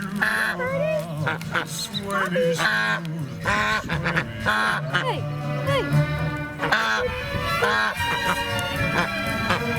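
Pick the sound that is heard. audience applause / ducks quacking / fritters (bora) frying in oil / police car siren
ducks quacking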